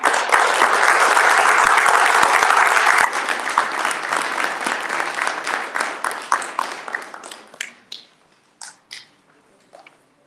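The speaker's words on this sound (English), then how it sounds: "Let's have a huge round of applause for Chhatrapati Shivaji Maharaj." Audience applause at a Chhatrapati Shivaji Maharaj Jayanti celebration in the USA, in honour of Shivaji Maharaj: a dense, loud crowd clapping for about three seconds that thins into scattered claps and dies away to a few last claps.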